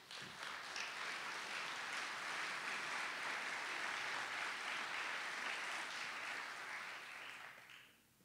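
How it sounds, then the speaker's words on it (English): Sustained applause from a large audience, steady and dense for several seconds before tapering off at the end. "Thank you for that applause."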